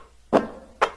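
Two short swish hits from the Wii Sports basketball game, played at their original pitch as a musical sample, sound in quick succession, each a sharp soft burst that fades fast.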